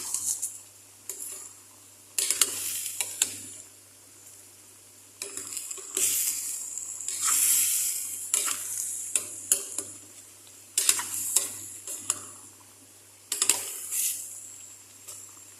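Pakbit is stirred with salt in a pan, a utensil scraping and clinking against the metal in irregular bursts over a light, steady sizzle, close and fairly quiet.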